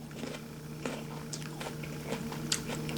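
Crisp bites and crunchy chewing of a firm Japanese Fuyu persimmon, several short crackling snaps close to the mic over a low steady hum.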